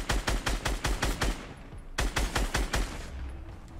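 Rapid automatic gunfire in Fortnite Battle Royale, two loud sustained bursts of closely spaced shots separated by a brief pause.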